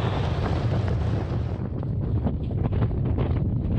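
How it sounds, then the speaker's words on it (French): Strong winter headwind on Mont Ventoux buffets the microphone in a steady, roaring rumble, loud and close, with no voices. "Il y a tellement de vent de face qu'on n'arrive même pas à descendre."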